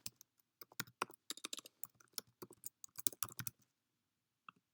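Keys clatter on a computer keyboard in quick bursts of clicks, close and crisp against a quiet room, with a short pause before a final couple of taps.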